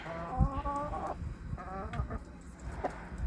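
Several chickens, including Australorps, Cochins and bantams, cluck and murmur nearby in short, repeated calls, a calm, continuous farmyard chatter in winter with no talking.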